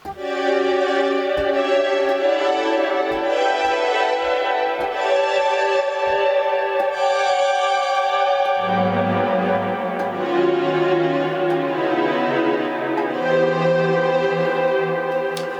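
A SynthAxe synthesized guitar plays sustained, shimmering E Dorian chords that shift partway through, with a deeper bass line entering midway; loud and continuous, no voices.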